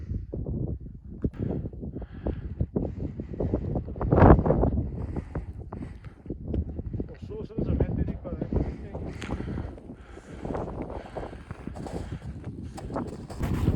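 Strong, freezing wind blows across a snowy mountain ridge on Pasubio near Cima Palon, a loud continuous gusting roar buffeting the microphone, with voices talking over it.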